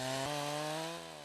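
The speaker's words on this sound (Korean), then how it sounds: "벌목은 나무 밑둥의 적당한 부위를 톱질해서 넘어뜨리는 형태로 진행된다" A chainsaw cuts through a standing tree trunk during winter logging in Siberia, its engine holding a loud, steady whine that eases slightly in pitch near the end, with no voices.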